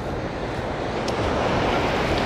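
Rough ocean surf at a beach resort makes a loud, continuous broadband roar of breaking waves mixed with wind buffeting the microphone, no voices.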